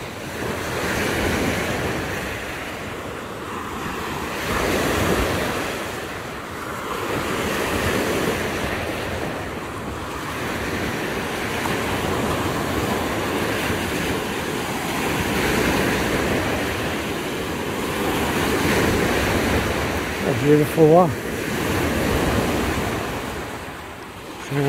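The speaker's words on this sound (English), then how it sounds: "Sound of the waves." Waves washing onto a lake beach at Wheatley Provincial Park in October, steady rolling surges with wind noise, and a voice briefly speaks near the end.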